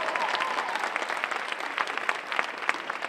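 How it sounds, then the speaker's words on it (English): Scattered clapping from a school audience, a steady patter of many hands with no voices over it. "You should clap for that."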